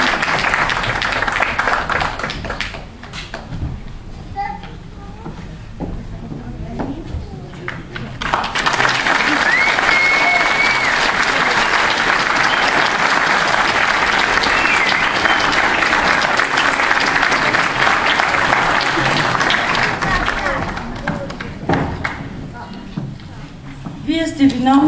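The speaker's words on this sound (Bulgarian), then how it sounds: "Вие сте виновниците за тези бурни аплодисменти." Stormy applause from an audience at a stage performance by children, loud dense clapping that swells after several quieter seconds, holds steady, then fades, with a voice over it near the start and end.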